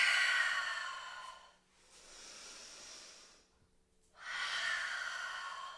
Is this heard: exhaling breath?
yes